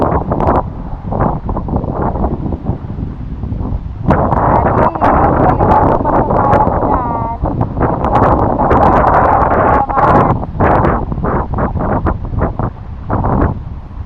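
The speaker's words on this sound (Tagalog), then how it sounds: "Ang lalaki ng alon dun, Kuya Mark." Strong wind buffets the microphone while large ocean waves surge around a boat during a sea crossing off Palawan, a loud, continuous roar with brief voices heard underneath.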